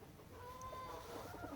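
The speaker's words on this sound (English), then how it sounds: "They're gorgeous chickens." Gamefowl chickens from an older Bennett's pair make soft, faint clucks and murmurs over a steady outdoor background hiss, with no voices.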